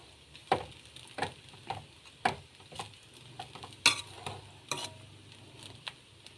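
Poha upma of flattened rice is stirred in a pan with a soft sizzle underneath, and a spoon scrapes and taps the pan in about a dozen distinct strokes. The sound is fairly quiet and has no talk over it.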